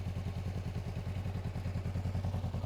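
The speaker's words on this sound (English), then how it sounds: "So now that you left your bike running for a while" Honda motorcycle engine left idling to warm up, a close, steady, rhythmic low thumping that repeats evenly throughout.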